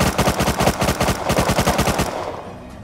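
Rapid automatic gunfire in the survival game Rust during a C4 base raid, a loud, steady burst of shots that runs about two seconds and then stops, leaving a faint tail.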